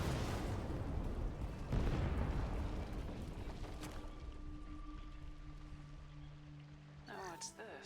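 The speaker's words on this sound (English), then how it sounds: "More explosions." Deep, rumbling explosion blasts with heavy low-end crackle fill the first few seconds in the video game Mass Effect 2, fading into a steady hum and tones, with a brief voice at the end.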